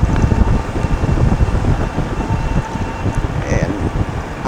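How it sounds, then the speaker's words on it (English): Wind roars across the microphone during an e-bike ride on a greenway trail near evening, a loud, gusty, buffeting rumble that covers the whole stretch without letting up. "It is wind. It's been a pretty windy ride."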